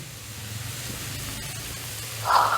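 Onions tipped into a hot pan give a sudden short burst of sizzling near the end, rising out of a steady low kitchen hiss. No one speaks.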